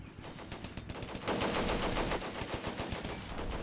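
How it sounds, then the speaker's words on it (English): Dense machine-gun fire in the war video game Combat Mission: Barbarossa to Berlin crackles without letup, with overlapping rapid bursts forming a continuous loud rattle. "A lot of shooting."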